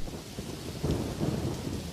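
Thunder rolls in low and heavy as rain begins, a deep rumbling swell over steady hiss of falling rain, with no voices.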